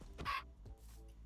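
Chickens in a Minecraft-style video game give a couple of short clucks, close and fairly quiet, with no talking.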